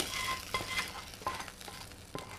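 Hot oil tempering sizzling and spluttering in a pan as it is stirred into cooked rice, a continuous frying hiss with small pops and a few sharper crackles, close and fairly quiet.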